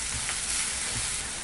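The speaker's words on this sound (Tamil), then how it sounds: "ஒரு பெரிய வெங்காயம், ஒரு பச்சை மிளகாய் பொடியா நறுக்கியிருக்கேன், அதையும் ஆட் பண்ணிக்கலாம். இது நல்லா வதங்கணும்." Chopped onion, green chili and curry leaves sautéing in a pan for spicy kozhukattai, giving a steady close sizzle and frying crackle with faint stirring, no voices.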